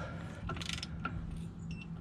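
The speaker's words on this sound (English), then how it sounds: "we just tighten this to 100 to 175 pounds foot torque" Axle nut on a Dexter 12k oil bath trailer axle being tightened with a torque wrench, giving a few brief metallic clicks and ratcheting mechanism sounds over a steady low hum.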